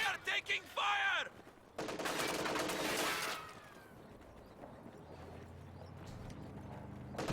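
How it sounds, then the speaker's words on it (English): Gunfire in the WWII strategy game Company of Heroes 2 during a 1v1 match, a burst of sharp shots up front, then a dense loud stretch of firing and battle noise that fades to a lower, rumbling backdrop. "We are taking fire!"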